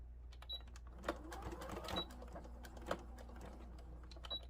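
A sewing machine stitches a fleece bumblebee with black thread, a quiet close mechanical whir with scattered light clicks and taps, the stitching rising briefly in short bursts.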